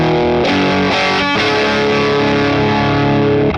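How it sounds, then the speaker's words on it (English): Electric guitar played through the distortion stage of a vintage Yamaha SB-40 multi-effect unit, giving a soft, fuzzy overdrive; sustained strummed chords ring loud and steady with a few fresh attacks early on, no voice. "It's a really soft, almost fuzz type of distortion."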